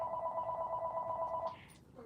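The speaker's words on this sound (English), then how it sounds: "oh, the phone's ringing, but I'm not answering it." A telephone rings steadily in a home kitchen during a live cooking stream, a continuous electronic bell tone lasting about a second and a half, fairly loud and close, then stopping abruptly.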